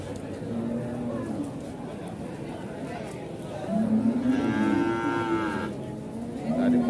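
Pegon cattle moo at Wirosari cattle market in Grobogan, Central Java, with long, drawn-out lowing calls rising over a crowded market murmur, loud and fairly near.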